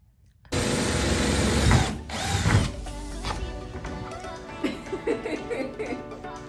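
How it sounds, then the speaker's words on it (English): A power drill bores pilot holes into a roof box on a camper van, starting abruptly with a loud whining spin that bogs down, then continues as a lower grinding whir with small clicks. "we're pre-drilling holes"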